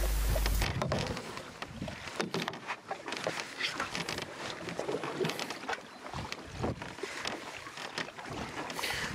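A paddle works through the water beside a small boat, with close splashes and dull knocks against the hull under a constant rush of wind across the microphone.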